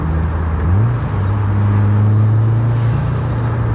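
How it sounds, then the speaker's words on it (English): A car fitted with an Invidia catback exhaust and simple bolt-on mods performs a downshift rev match, heard as a loud steady engine drone from inside that dips, then climbs in pitch and holds. "Alright, we'll do a downshift rev match."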